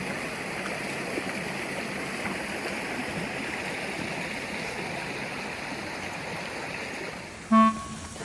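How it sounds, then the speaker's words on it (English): A babbling stream near a campsite gives a steady, broad rushing and gurgling wash close by, with a brief horn toot near the end. "The babbling stream behind us was just so nice."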